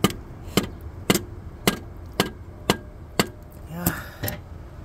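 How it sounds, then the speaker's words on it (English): A rubber hammer strikes an alternator during its replacement, giving about eight dull, evenly spaced knocks roughly half a second apart, close and fairly loud against a quiet background. "I hit it with a rubber hammer."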